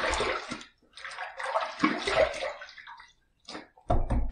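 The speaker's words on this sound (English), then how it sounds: "Let's rinse." Running water splashes and gurgles from a tap as a razor is rinsed, coming in several uneven bursts with short pauses between them, close and moderately loud.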